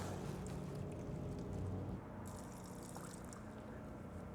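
Beer poured into a bowl for cheese curd batter, a steady close liquid splash and trickle that eases slightly partway through, with no talking.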